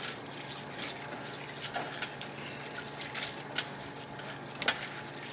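Poha (pressed rice) rinsed in a strainer under running tap water, a soft steady splash and trickle with a few louder drips and clinks, quiet and close.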